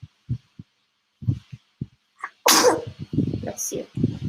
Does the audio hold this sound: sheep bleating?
no